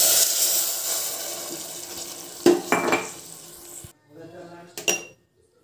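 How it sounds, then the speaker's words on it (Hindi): Milk poured into roasted vermicelli in a pan for sweet milk sewaiyan: a rushing liquid pour with clinks of utensil on metal, cutting off abruptly, followed by a few quieter clanks. "हम इसमें दूध डालेंगे।"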